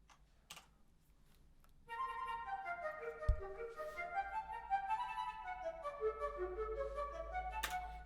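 An intricate woodwind orchestration plays back quietly, with several weaving melodic lines entering after a couple of seconds of near silence and a few soft clicks, and no one speaking.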